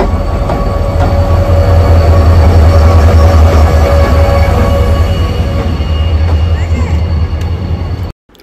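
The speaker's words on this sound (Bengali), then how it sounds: "এই যে আমাদের ট্রেন চলে এসেছে।" A train pulls into a station, loud and close, with a heavy rumble, rattling wagons and squealing wheels that ease off slightly before the sound cuts out.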